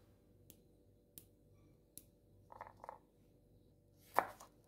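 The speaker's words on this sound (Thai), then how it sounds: "หั่นพริกชี้ฟ้าแดงเตรียมไว้ด้วยครับ" A knife chopping red chili peppers on a cutting board in a few sparse, sharp strikes, close and quiet, with small soft scraping sounds between cuts.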